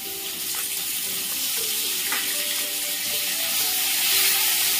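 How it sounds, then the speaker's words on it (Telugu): Curry leaves drop into hot oil for tempering a amaranth and moong dal curry, giving a steady, hissing sizzle that builds slightly louder toward the end with faint crackles. "ఇందులోనే కరివేపాకు వేసుకుంటున్నాను"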